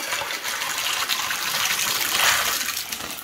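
A steady, loud gush of water poured over a model coastline, rushing and splashing continuously for several seconds without pause.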